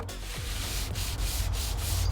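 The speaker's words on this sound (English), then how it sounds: "I had to sand the plywood board because it was lying around for a while and had a few dirt stains" Sanding a stained plywood board, a steady close abrasive rubbing with rhythmic strokes repeating about every quarter second, loud and continuous with no talk.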